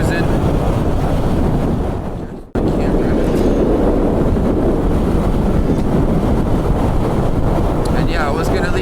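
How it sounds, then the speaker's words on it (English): Motorcycle cruising steadily in sixth gear on roads after rain, a constant broadband engine and wind roar with a brief dropout before the steady rush resumes. "6th gear cruising."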